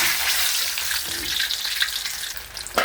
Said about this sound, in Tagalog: re-refry na natin ito mga ka-DJ. Pipituloy natin para mas malutong yung balat.